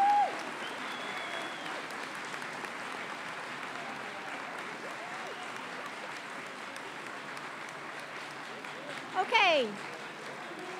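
A commencement audience of family and friends applauds associate and certificate graduates with steady, broad clapping that fills the hall throughout, and a brief voice is heard near the end.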